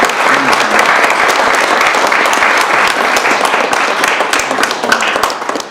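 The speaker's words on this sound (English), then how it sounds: "please give a round of applause to both my grandfathers" An audience at an annual general meeting applauds, loud and sustained clapping from a crowd that holds steady for several seconds with no break.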